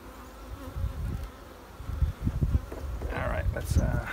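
Honey bees buzz around an opened hive, a close, wavering insect drone rising and falling under wind rumble and handling noise.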